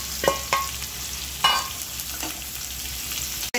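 Carrot strips stir-fried in a pan for veg hakka noodles, a soft continuous sizzle broken by several sharp metallic clinks and scrapes of a spatula, close and clear, with a sudden knock at the very end.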